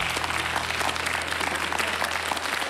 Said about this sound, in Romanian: Așa, aplauze